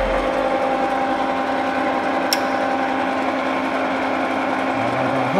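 Metal lathe turning a part at 165 RPM with a slow feed while building a magneto test stand, a steady close machine hum with a faint continuous whine and one brief sharp tick partway through.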